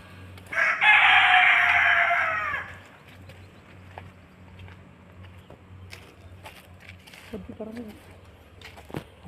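A Punjabi Aseel rooster, an old breed kept in cages, lets out one loud, drawn-out crow near the start, followed by quieter farmyard background, faint clucks and a brief burst of voices.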